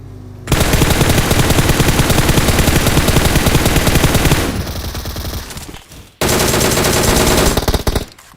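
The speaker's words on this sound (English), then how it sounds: "Who is shooting us? Sniper" Sustained bursts of rapid sniper and automatic gunfire in a video game, loud and dense, fading briefly near the end before another loud volley resumes.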